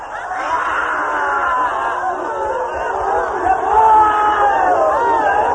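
Group of people shouting, crying out and laughing together during an Osho active meditation, a dense continuous roar of many voices at steady loudness, swelling slightly toward the end.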